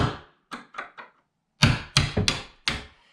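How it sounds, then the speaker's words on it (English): Hammer taps on a slender screwdriver set under an interior door hinge to drive the pin upward: three light strikes, a pause, then four louder, sharper knocks in uneven rhythm, close by. "just give it a tap with your hammer"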